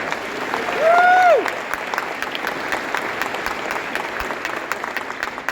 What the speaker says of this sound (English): feel free to jump in and applaud anytime you want